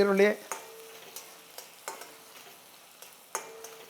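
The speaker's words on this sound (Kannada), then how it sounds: "ಈರುಳ್ಳಿ ಚೆನ್ನಾಗಿ ಫ್ರೈ ಆಗಲಿ" Chopped onions frying in a pan for palak dal make a soft sizzle, with a spatula tapping and scraping the pan at irregular intervals.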